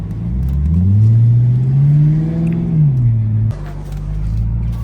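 A car engine revs up and holds a rising, then falling whine as the vehicle pulls out of a lot, loud and close, with a voice talking over it.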